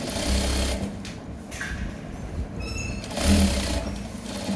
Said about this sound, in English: Then stitch the second leg as well.